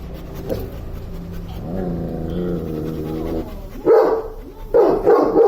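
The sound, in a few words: dog barking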